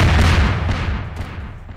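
Dynamite exploding in Garry's Mod: a loud booming blast at the start that rumbles and fades over about two seconds.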